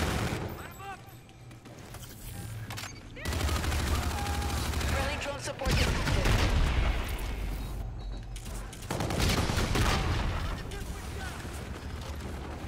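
Rapid gunfire bursts and weapon mechanics crackle from a Call of Duty Infinite Warfare multiplayer match, with repeated loud volleys and shorter pauses between them.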